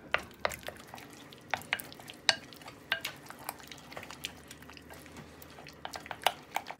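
A spoon scrapes and taps around a bowl of thick cream cheese mixture in an irregular rhythm, soft clicks and smears close by, with no talking.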